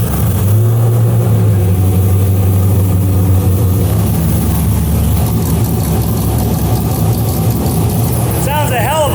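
A Chevrolet Corvette C6 V8 fitted with a big cam idles close and loud with a lumpy, choppy rumble, blipping its revs, while someone talks over it.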